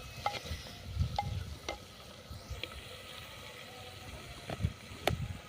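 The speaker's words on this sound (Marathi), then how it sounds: "थोडंसं तेलावरती आपण परतून घेऊया." Pearl millet flour dish being stirred and sautéed with ground masala paste in oil in a village kitchen: faint scraping strokes and soft sizzling, with a few sharp clinks of the spoon against the pan.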